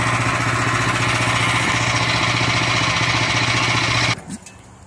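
A Woodland Mills HM126 sawmill runs loud and steady with its engine droning as the blade cuts a slab from a log. The noise stops abruptly near the end, leaving a quiet tail.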